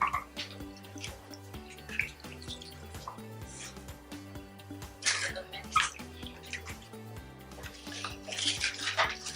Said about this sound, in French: on lave le macabo.